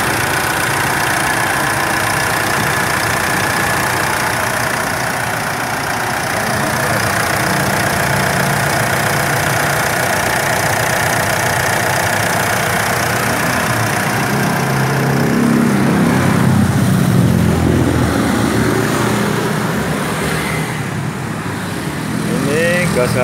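Common rail diesel engine of a 2010 Mitsubishi Pajero Sport Exceed 2.5D idling, a steady loud close rumble throughout with a shift in tone near the end, with occasional talk over it.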